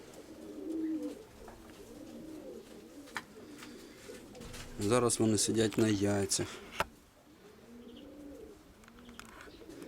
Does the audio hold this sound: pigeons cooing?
yes